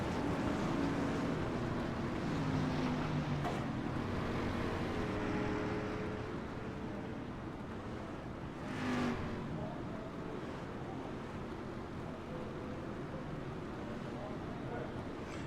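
Street stock race cars roar around North Wilkes in a racing game, weaving aggressively to clean their tires; a steady, droning engine wash with a passing swell near the end and faint talk underneath.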